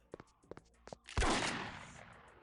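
A single loud shotgun blast in Vampire: The Masquerade – Redemption, preceded by a few soft clicks and thuds, with the shot's broad burst decaying over about a second.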